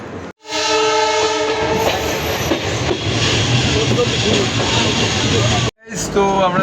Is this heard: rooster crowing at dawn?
no